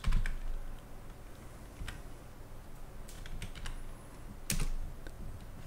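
Keys clack on a computer keyboard as a Linux terminal command is typed, a run of close, irregular taps with a few louder strokes, nearly alone with no talk.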